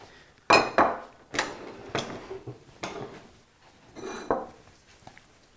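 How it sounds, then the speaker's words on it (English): Corn salad being spooned into a Mexican bowl for vegan esquites, giving several sharp clinks and scrapes of utensil against bowl, spaced irregularly, close and fairly loud with no talk. "We're going to now put this in a beautiful Mexican bowl."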